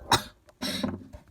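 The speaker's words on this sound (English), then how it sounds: "I just coughed." One sharp cough is followed by a longer, rougher cough-like burst, both close and fairly loud against near silence.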